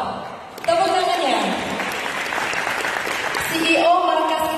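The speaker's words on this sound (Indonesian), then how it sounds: "Tepuk tangannya." At a digital marketing talk show at an expo, the audience breaks into a dense, sustained round of applause as a guest is welcomed. It swells right after the start and carries on loudly beneath music or voices.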